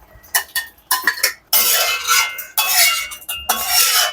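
Fried chicken pieces tipped into a thick, oil-separated Afghani chicken gravy in a pan, with several sharp metal clinks and scrapes of a utensil, followed by a steady loud sizzle and stirring, close up, with no talking.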